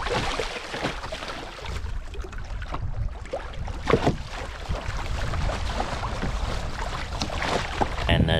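A sailing canoe planing fast through choppy water off the coast of Fyn under a double-reefed sail, with a loud continuous rush and splash of water and wind buffeting the microphone, no talk.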